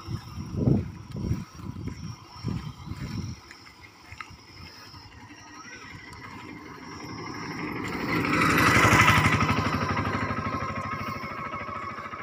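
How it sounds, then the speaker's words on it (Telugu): On a city road in Kurnool, a motorcycle comes up from behind, its engine swelling from faint street noise into a close, loud pass near the end, after a few brief thumps at the start. "ఇక్కడ వెనకాల ఒక బైక్ అయితే వస్తుంది"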